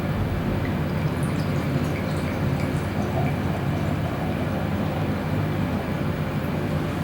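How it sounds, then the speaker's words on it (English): Strong beer, a 2012 vintage chocolate ale, poured into a glass: a continuous close-up hiss and gurgle of liquid that stays loud and even throughout, with no voices. "Alright guys, so there's the pour."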